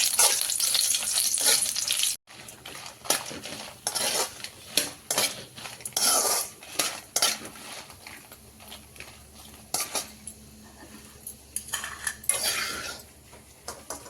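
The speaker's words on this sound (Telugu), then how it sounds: "సో మెల్లగా సిమ్లో పెట్టుకొని ఫ్రై చేసుకోండి" Coriander and tomato for a chutney fry slowly over a low flame, a soft sizzle running beneath frequent metal spoon scrapes and clinks against the pan, close and busy with uneven bursts.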